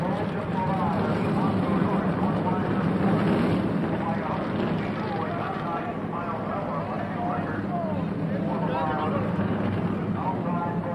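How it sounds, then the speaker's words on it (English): Forty NASCAR Winston Cup stock car engines fire up together at Darlington for the 1990 TranSouth 500, making a dense, steady, loud roar that fills the whole stretch with no breaks. "40 cars and drivers fire to life"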